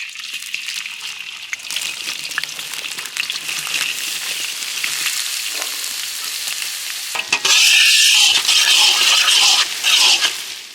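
Onions sizzle and fry in hot oil in a kadai, a loud, continuous crackle that grows sharply louder partway through as they are stirred, with no talking.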